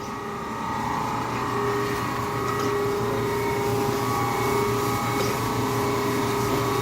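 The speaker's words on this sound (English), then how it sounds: "Grinding wheel is actually, it's moving right now." A Brown & Sharpe Micromaster 1236 automatic surface grinder with its wheel spinning, a steady loud machine hum and whine that holds constant throughout with no talking.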